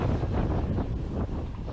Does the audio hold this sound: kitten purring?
no